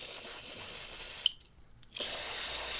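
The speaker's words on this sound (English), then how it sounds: "I'm using BW100 here to kind of spray inside of these ports and just help loosen stuff up and irrigate it out" BW100 cleaner sprayed from a can into the ports of a smoke- and dust-damaged PS4 Slim, two steady close hissing bursts with a short pause between them.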